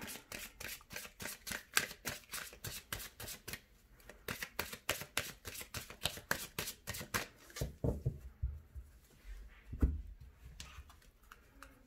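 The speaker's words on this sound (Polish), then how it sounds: "Tylko najpierw przetasuję talię." A tarot card deck is shuffled up close in a rapid, steady run of crisp riffling snaps, followed by a few softer shuffles and low thumps as the cards settle.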